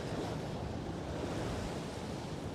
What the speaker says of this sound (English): For the East River right now, this water is pretty choppy